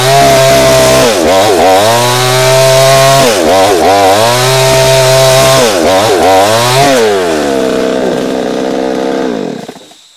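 A loud chainsaw runs close by, its engine revving up and down several times as it cuts through a fallen tree, then winding down and stopping.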